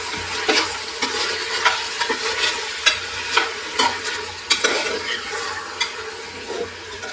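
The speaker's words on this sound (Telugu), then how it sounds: "ఇప్పుడు మనము టమాటోలు వేసుకుంటా ఉంటాము. గ్రేవీ వచ్చేకంటే కలుపుకుంటాము." Tomatoes frying in a pan for homemade chicken biryani gravy: a continuous sizzle with repeated scraping strokes of a spoon stirring through the mixture, close and clear with no talk.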